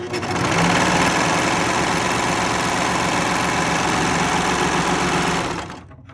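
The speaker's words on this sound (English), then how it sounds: "that's pretty much like the fastest the machine goes" A serger sewing machine runs at top speed, a loud, steady, buzzing mechanical whir that holds for several seconds before cutting off and winding down, with no voice over it.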